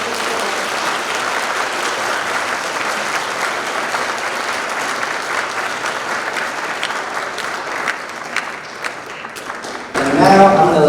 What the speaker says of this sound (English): give a round of applause to all the shout outs